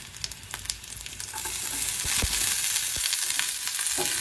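Onion goes into a pan of vegetables, and a quieter, uneven frying crackle swells into a louder, steady close sizzle.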